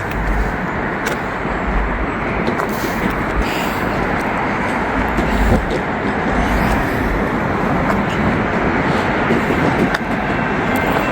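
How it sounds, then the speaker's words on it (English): A Penn Central heritage-unit train passes at Cincinnati Union Terminal, giving a continuous loud rumble with steady low-end roar and occasional clanks, unbroken throughout without voices. "I think this will be the final train for this one for me."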